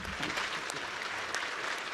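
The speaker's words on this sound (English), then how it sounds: "Applause here from head teachers." Head teachers applauding at a gathering, a steady wash of clapping from a crowd, fairly faint and continuous throughout.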